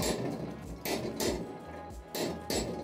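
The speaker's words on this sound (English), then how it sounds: "we'll come in and work this area with a chisel" A steel chisel is struck by a hammer against a forged steel bar on an anvil, giving several sharp metallic blows in an uneven rhythm over a steady hum of shop background noise.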